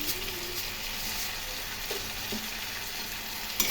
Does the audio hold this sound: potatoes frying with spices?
yes